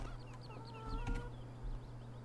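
Chickens cluck and chirp in short, quick calls in Farming Simulator 17, set against a steady low hum of background noise.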